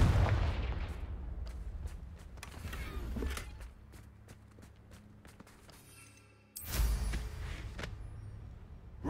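A Confringo fire spell explodes in the Hogwarts Legacy game, a heavy booming blast at the start and another at about six and a half seconds, with clicks and footsteps between.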